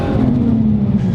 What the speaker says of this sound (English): The turbo noises.